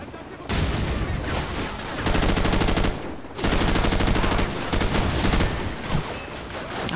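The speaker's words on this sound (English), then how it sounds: "I'm just shooting randomly with a shotgun." Shotgun blasts in Call of Duty 4: Modern Warfare, loud and close, several bursts of firing separated by short pauses amid chaotic battle noise, with a player talking over it.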